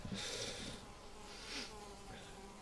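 Mosquitoes buzz in the survival video game Valheim, faint whining drones swelling in short bursts as they fly close, with a low background hum and no speech.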